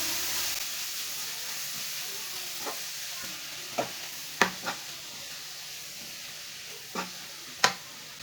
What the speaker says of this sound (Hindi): अब इसे कद्दूकस की हुई गाजरें डाल लेंगे। अच्छी तरह मिक्स कर लेंगे।